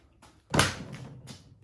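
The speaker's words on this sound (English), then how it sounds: "Shut the lid." A cooler lid shuts with a single close, solid thump that rings out briefly, with faint lighter knocks just before and after.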